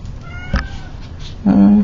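A cat meows twice: a short cry near the middle, then a louder, longer meow at the end, close by over a quiet room.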